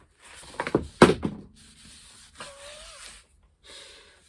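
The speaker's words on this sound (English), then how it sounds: "Am I really making content out of scraping paint off a palette?" Scraping dried paint off an artist's palette in a studio, a few short rough scrapes and rubs up close, followed by quieter intermittent scratches and a faint squeak, with no talking.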